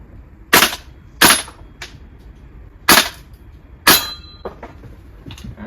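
A VFC V3 gas blowback airsoft rifle fires until it runs out of ammunition. Five or six sharp, loud cracks come at an uneven pace, then a few softer clicks follow in a quiet room.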